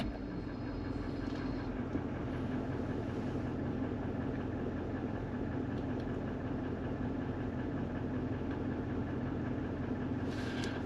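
A Toyota Land Cruiser 200 series engine runs with a steady, continuous idle rumble throughout, close and even, with no talking.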